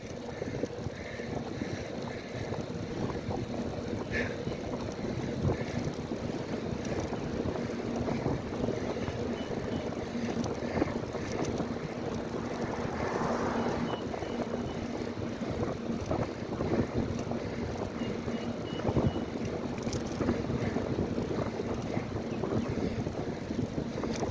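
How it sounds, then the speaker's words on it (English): A strong headwind buffets the microphone while riding a bike, a constant rough roar of wind noise with no speech. "riding into what feels like a fucking headwind."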